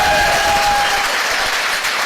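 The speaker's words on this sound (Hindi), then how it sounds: "ताली वाली बजा के बताइए" A hall audience claps steadily in a dense, continuous burst of applause, loud and close for the whole stretch with no talk over it.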